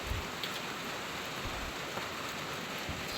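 Steady rain falls on leafy garden plants in cool weather, a soft continuous patter with occasional heavier drops landing close by and no voices.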